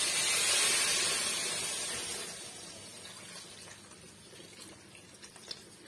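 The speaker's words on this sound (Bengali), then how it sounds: "এবার গরম জলটা এতে দিয়ে দেবো।" Hot water is poured into a cooking pot of spiced curry, a steady watery hiss and splash that is loudest at the start and gradually fades, with no talk over it.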